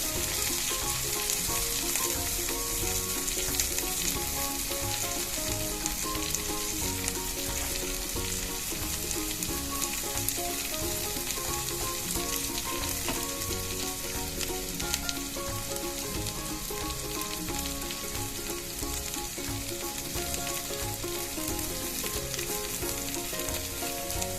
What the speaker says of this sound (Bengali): ঘিটা গরম হলে আমি প্রথমে আদা বাটাটা দেবো।